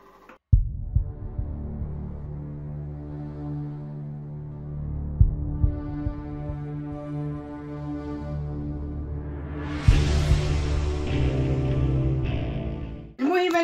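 A dough kneading machine runs with a low, steady mechanical hum, briefly knocking as it starts and growing louder and rougher partway through before stopping, while making dough for msemen.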